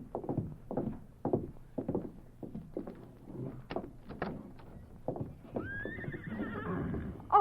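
Near an alley, a horse's hooves clip-clop in a steady, close rhythm, followed by a loud, quavering neigh near the end.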